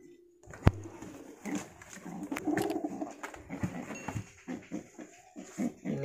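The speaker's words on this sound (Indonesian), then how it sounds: "Ini saya unboxing burung merpati" Pigeons cooing softly and fluttering close by, with scattered rustles and a sharp knock near the start.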